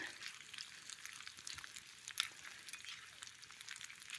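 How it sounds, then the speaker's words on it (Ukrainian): Soft, crackling sizzle of food frying in a pan over a campfire in a wet forest, faint and uneven, with small pops scattered through the quiet background. "Хай смажиться, я зараз трішки збавлю вогник."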